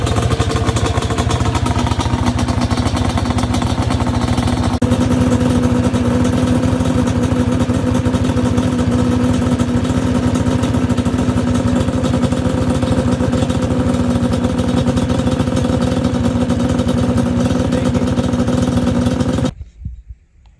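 A large motorcycle idles and rumbles steadily from close by as it rolls out of a garage, its steady engine drone continuing for about twenty seconds before it cuts off abruptly.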